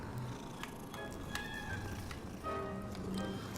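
A cat meows a few times up close over a quiet room background, short faint cries rising and falling within a few seconds.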